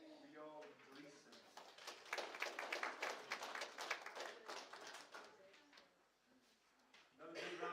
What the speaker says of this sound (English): Another big round of applause for these ladies